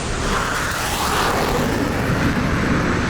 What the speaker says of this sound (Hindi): वो रहा विमान।